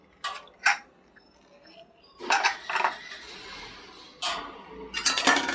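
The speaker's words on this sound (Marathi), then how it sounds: "आता कुकर उघडून बघते कशी झाली आहे भाजी ती रस्सा तो" The lid of a pressure cooker is unlocked and lifted after cooking a brinjal and potato curry, giving several sharp metallic clinks and scrapes in bursts with quiet gaps between them.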